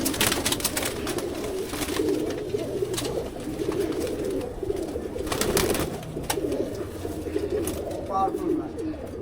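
A loft of championship racing pigeons fills the air with steady, dense cooing and fluttering, close and continuous, while people talk nearby.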